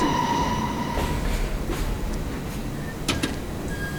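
Subway train running on twisty track in the World of Subways simulator, New York line: a steady rolling rumble with faint whines and a few brief squeaky clicks and rattles, no talking.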